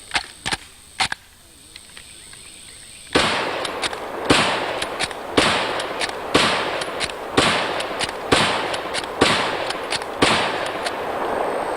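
An old Enfield rifle fires outdoors: a few sharp cracks come first, then a long string of loud, evenly spaced shots, each followed by a brief echo.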